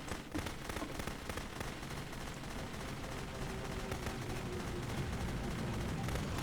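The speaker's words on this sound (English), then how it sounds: "you can click to fire the gun" Continuous rattling gunfire in a video game, dense bursts running steadily throughout at moderate loudness with no clear pauses.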